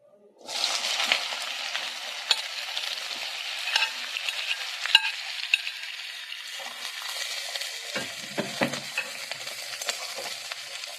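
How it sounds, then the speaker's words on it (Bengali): Snake gourd pieces hit hot oil in a wok and burst into a loud, continuous sizzle, with scraping and clicking stirring sounds scattered through it, close up and without talk. "এবার চিকিঙ্গাটা আমি একটু ভেজে নেব"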